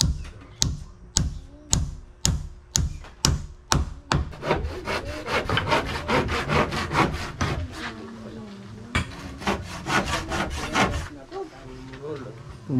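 A blunt hand saw cuts through wooden logs, first in slow separate strokes, then in a fast steady rasping rhythm, up close with little talk.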